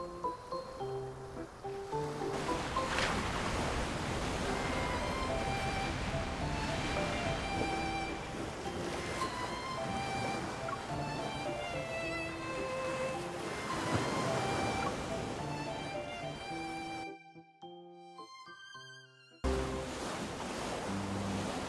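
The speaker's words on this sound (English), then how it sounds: "The sound of the waves seems to be getting louder." Ocean waves wash continuously in the Wildlight Chronicles video game, a broad steady surf layered under tonal game music, with a brief drop to near silence near the end before the surf resumes.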